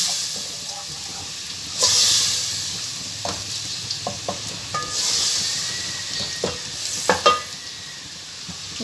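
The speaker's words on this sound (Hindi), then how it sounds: "अच्छे से हमने इस मसाले को भूनना है।" Spice masala for aloo keema fries in a pan with a little water, hissing and sizzling with bursts of steam and sharp clicks as it is stirred, fairly close and steady.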